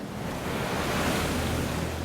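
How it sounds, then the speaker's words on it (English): Ocean waves roaring in a steady, dense wash of surf, loud and continuous with gusting wind noise over the microphone and no voices. "I just remember those waves, the sound of those waves."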